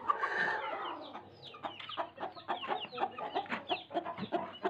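A hen clucking near a clutch of eggs, a run of short, close, repeated clucks in an uneven rhythm, with a louder call at the start and no talking.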